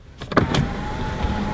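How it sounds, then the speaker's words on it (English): A short electric motor whir inside a Kia Stinger GT2, a few clicks and a brief mechanical hum as the sunroof panel slides, then a quiet steady drone. "You've got a very nice sunroof up here."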